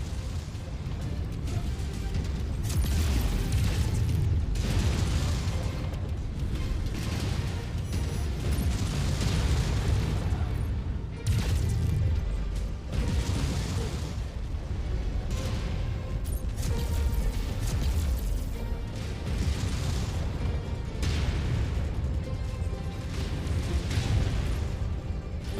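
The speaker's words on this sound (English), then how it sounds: "Big explosion." Dense barrage of booming explosions and mechanical battle noise in the video game Mechwarrior 5: Mercenaries, repeated heavy blasts roughly every second or two over a constant loud rumble for the whole stretch.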